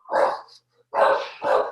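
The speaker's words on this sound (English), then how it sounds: "Apologies for my dog in the background." A dog barks three times in the background, loud and fairly close, as a single bark, a pause, then two quick barks in a row.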